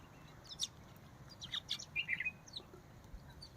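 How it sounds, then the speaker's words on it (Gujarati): Several small birds chirp in short, high bursts while pecking at scattered grain by a roadside, fairly faint over a quiet outdoor background. "આ પક્ષીઓ રામજીભાઈના ચણ ઉપર આવી ગયા."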